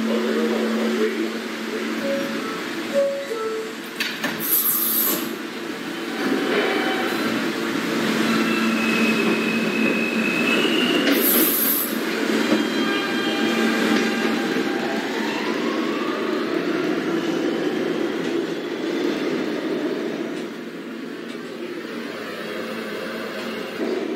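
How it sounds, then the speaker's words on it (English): A Queensbound New York subway Q train running via the R line at Whitehall St–South Ferry station: a steady, loud rumble of train motion fills the platform, with squealing tones, hiss and brief bright bursts of brake or door noise, and no talking. "This is a Queensbound Q train via the R line."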